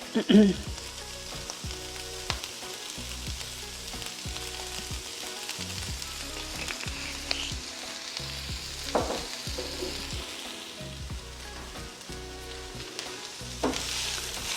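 Garden-fresh kale sautéing in bacon fat with garlic and seasoning, stirred in a pan: continuous crackling sizzle with occasional scrapes and clatters of the utensil, close and fairly loud, without speech.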